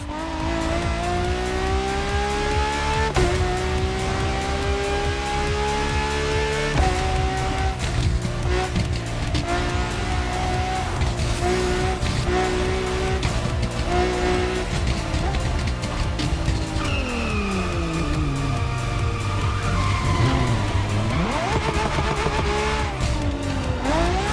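Racing car in The Crew Motorfest driving game, engine pitch rising and falling through gear changes while tires squeal and skid, loud and continuous throughout with no speech.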